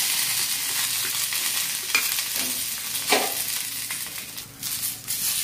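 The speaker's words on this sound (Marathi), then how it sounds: "तव्यावर आपल्याला थोडंसं तेल टाकायचं बघा मिरच्या भाजायला" Green chillies fry in a little oil on a hot griddle, a steady close sizzle broken by several sharp stirring scrapes and brief crackles.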